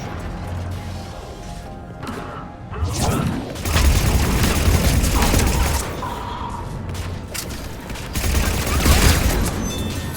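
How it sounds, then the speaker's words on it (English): Heavy cannon fire booms repeatedly amid chaotic battle noise in the Mass Effect 3 sci-fi video game, with loud bursts clustering around the middle and end over a constant rumbling din. "Those cannons have to be stopped."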